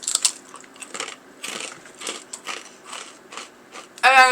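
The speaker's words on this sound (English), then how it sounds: "I'm going to eat it right now. They're just so crunchy and yummy." Someone eats a crispy rice snack, and a series of dry crunching bites and chews sounds close to the mic at an irregular pace, ending in a louder crackle of what may be the packet.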